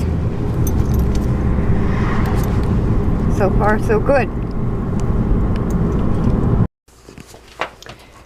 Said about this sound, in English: We are just back from the car ride